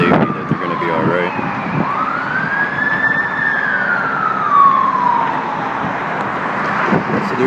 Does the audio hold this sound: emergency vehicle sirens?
yes